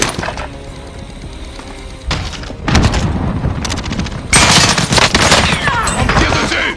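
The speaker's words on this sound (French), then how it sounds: "On me tire dessus." Gunfire in the video game Call of Duty Warzone, dense rapid bursts and heavy volleys that grow louder and harsher partway through, with some clinking debris.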